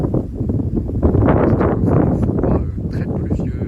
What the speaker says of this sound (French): un vent assez sensible, mais pas trop